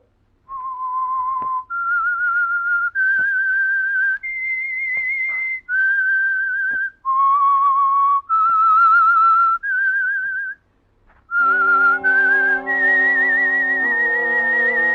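A lone whistler carries the theme tune of the old radio suspense show The Whistler: a slow, clear melody of sustained notes with brief pauses, then an orchestral chord swells in beneath it near the end.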